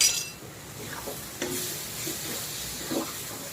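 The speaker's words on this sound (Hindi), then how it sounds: "तो लगभग इसमें मैं अपने सूखे मसाले डाल के मिला दे रही हूँ।" Dry spices are stirred into a masala sizzling in a pan. A steady close hiss of frying runs throughout, with soft scraping strokes of the spoon repeating every second or so.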